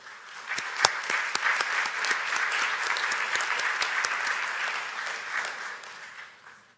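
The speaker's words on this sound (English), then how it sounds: "let's all show our gratitude to your all family and friends who are here with a big round of applause" A large crowd at an engineering graduate commencement applauding, dense sustained clapping with a few sharper claps standing out, tapering off at the end.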